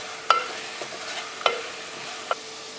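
Turmeric and coriander powder being stirred into fried onions in a pan. A low background sizzle runs under three distinct scraping spoon strokes spaced about a second apart. No speech is heard.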